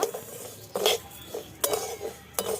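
Moong dal being dry-roasted in a pan, a spoon scraping and clinking against the metal in several quick stirring strokes, close and moderately loud.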